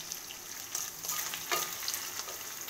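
Ginger paste and small green cardamom pods frying in a pan for fried rice, a steady broadband sizzle with a few brief stirring scrapes, close and moderately loud, no voices.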